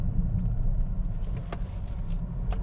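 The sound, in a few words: 2020 Toyota Corolla Hatchback driving down the road, interior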